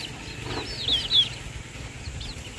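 Native Rhode Island Red chickens cluck softly with a couple of short, rising calls over a quiet outdoor farmyard background, brief and moderately close.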